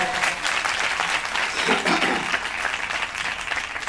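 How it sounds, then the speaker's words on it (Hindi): Audience at the Harvest Jubilee Convention evening session bursts into steady, dense applause, sustained and fairly loud throughout with no break, filling the hall as attendees are welcomed. "जोरदार तालियों के साथ"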